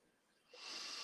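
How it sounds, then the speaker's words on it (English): A single quiet deep inhale through the nose, a soft rising breathy hiss close to the microphone, alone after a moment of near silence. "let's all take a nice deep breath together"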